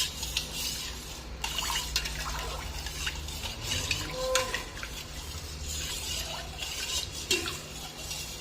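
A spoon stirs milk mixed with a curd starter in a vessel, producing soft liquid swirls and light scraping clinks against the container, fairly quiet and close.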